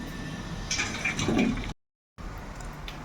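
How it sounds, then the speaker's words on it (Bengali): Curry with fish and taro pouring out of a pot, a short wet gush of liquid lasting about a second, then a brief silence before faint room noise returns. "আর তরকারিটা কিন্তু একদম ঢেলে ফেলবো"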